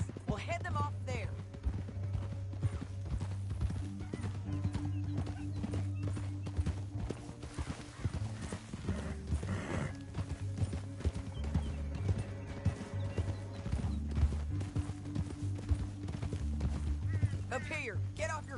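Horse hooves clip-clopping steadily at a trot in Red Dead Redemption 2, close and rhythmic, with a low droning background and voices talking over parts of it.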